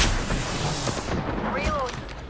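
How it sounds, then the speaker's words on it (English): Rapid bursts of gunfire crack and boom nearby in an Apex Legends firefight, loud and dense, with a brief whistling streak near the end. "Being shot at."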